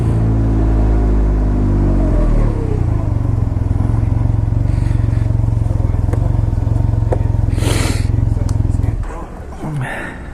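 A 2019 Can-Am Ryker 900cc triple three-wheeled motorcycle rumbles loudly while riding, its engine note shifting as it accelerates, with a brief burst of wind or passing noise near the end.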